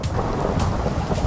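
Steady rain falls in the video game Minecraft, with broad rumbling thunder rolling underneath, loud and continuous, and no talking.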